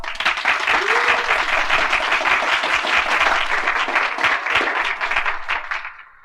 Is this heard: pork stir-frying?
no